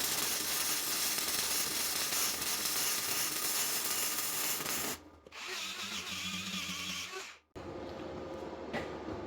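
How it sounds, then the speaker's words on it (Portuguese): Gasless MIG welding done upside down with a Pro Euro 150 welder: a steady loud crackling hiss runs close and continuous, breaking off briefly twice before resuming. "vou fazer uma solda aqui nessas duas peças para vocês verem como que é fácil"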